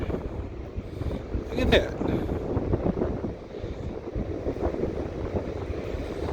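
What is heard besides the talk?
wind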